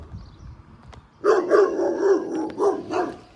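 A dog barks and whines in a rapid, continuous burst at close range outdoors, with a fainter single yip a moment before.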